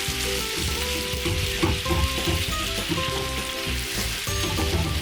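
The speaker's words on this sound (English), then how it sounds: "just take a ladle of stock. Add it inside." Cold stock ladled into a pan of mushroom risotto, setting off a loud, steady sizzle with dense crackle and occasional stirring scrapes, close up and with no voices.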